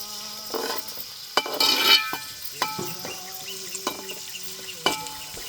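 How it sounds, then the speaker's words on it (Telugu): Thinly sliced onions fry and get stirred in a pan for a Telugu country-chicken broth, giving a steady light sizzle with several sharp scrapes and clanks of the spoon against the pan, close and fairly loud. "సన్నగా తరిగి పెట్టుకున్న తిన్నెరగడ్డి ఉల్లిగడ్డలు బాగా వేగిపోవాలండి"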